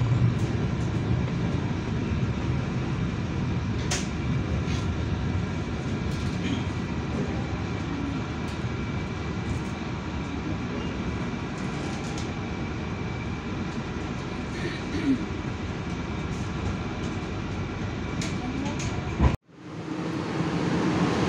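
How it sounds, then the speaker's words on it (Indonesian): The KA Pasundan passenger train enters Rancaekek station on track 1, heard from inside as a continuous loud rumble of wheels and car noise, with faint clanks before an abrupt drop near the end. "Masuk di jalur 1 stasiun Rancaikek."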